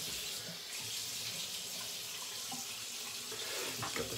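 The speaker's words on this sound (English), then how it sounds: "Got the face wet, we'll get the brush wet as well." A bathroom tap runs steadily into a sink while a face and synthetic shaving brush are wetted, a close, continuous splashing hiss with no talking.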